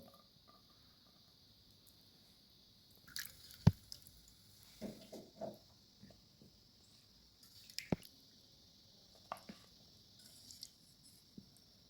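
Sliced potatoes being washed by hand in water in a home kitchen, faint irregular splashes, squishes and drips with a few sharper knocks, quiet overall.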